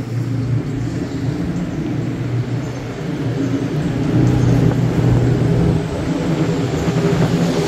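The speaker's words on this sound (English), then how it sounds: "You can hear the motorcycle coming through." Engine noise rumbles in dense traffic on Sukhumvit Road, Bangkok, swelling louder midway as a motorcycle passes close, then settling back into a steady drone.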